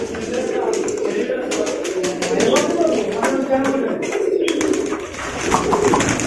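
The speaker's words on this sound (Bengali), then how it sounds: "এই দেখেন প্রচুর কবুতর" Many pigeons cooing together in a large loft, a continuous layered chorus of low coos with wing flutters and clatter, close, with a person speaking over it.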